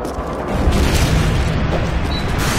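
Predator missile strike explodes in a Call of Duty match, a sustained low rumbling boom that fills the whole stretch at steady loudness with no voices over it.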